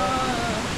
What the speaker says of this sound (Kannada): ನೋಡ್ರಿ ನೀರು ಹೆಂಗೆ ಹೊಂಟಾವು.